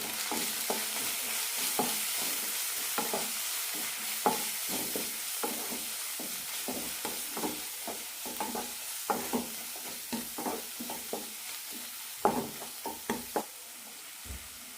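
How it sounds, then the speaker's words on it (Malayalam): Turmeric, coriander and Kashmiri chili powder fry in oil for a paneer kurma, a soft sizzle broken by repeated scraping stirs of a spoon in the pan, with no voices. "മഞ്ഞൾപ്പൊടി മല്ലിപ്പൊടി കാശ്മീരി മുളക് പൊടി നന്നായി മിക്സ് ചെയ്യാം"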